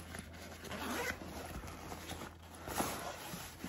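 A zipper on the back-panel pocket of a JuJuBe Eco Collection tote bag is pulled, giving a soft, close, continuous rasping zip that runs for a few seconds with slight bursts of speed, alone and quiet.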